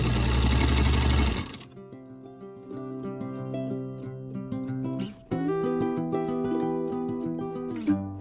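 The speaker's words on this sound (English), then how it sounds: "let me get to some speed sewing" A sewing machine speed-sews half-square triangle quilt blocks in a steady, close, motorized whir, with a brief pause and restart midway and a small clunk near the end.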